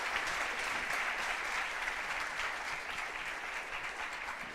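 Audience applause fills a lecture hall for a physicist about to speak on topological quantum states, a dense steady clatter of many hands clapping that holds loud throughout and eases slightly toward the end.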